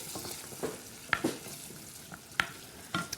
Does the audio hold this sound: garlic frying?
yes